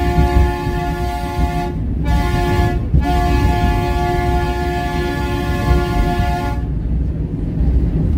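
A steam train at a mountain summit gives a loud, sustained whistle with steady harmonic tones, cut by two brief gaps, then ending as rumbling engine noise continues on its own.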